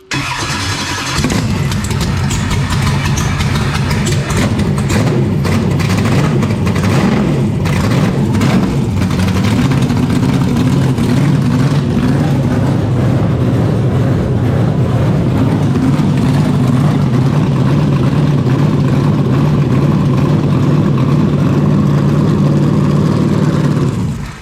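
A methanol-fuelled car engine, heading for the dyno, cranks and fires up, then runs loud and close with a rough, steady idle and repeated throttle blips and revs throughout.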